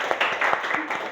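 Classroom applause from students for a student group after their presentation, a short burst of clapping with several hands, moderately close and fairly even throughout.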